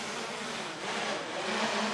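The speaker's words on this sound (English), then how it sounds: "The noise you can hear there is an air drone." Aerial camera drone buzzing overhead at an outdoor freediving world championship at sea in Kaş, a steady, fairly loud whine that swells slightly and holds throughout, with no talking.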